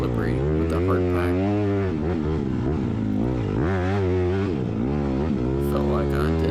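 A Honda CRF150R supermini dirt bike revs hard and continuously while riding a slippery hard-pack motocross track, its engine pitch rising and falling with throttle changes, loud and close throughout.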